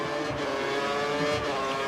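Formula racing cars in a video game at Monaco, engines screaming at high revs in a continuous loud whine with a brief shift in pitch as a car passes close.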